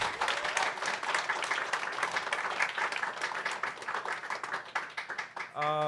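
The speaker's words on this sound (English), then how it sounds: "Can I get a big round of applause for all the dope poets who went on stage?" An audience at a people's poetry open-mic claps for the poets who performed, a steady, energetic round of applause that continues under a voice speaking over it.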